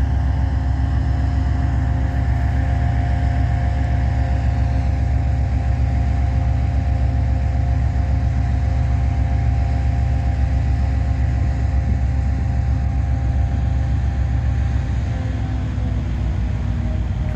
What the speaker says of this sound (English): Sound like both locomotives online making up air right now.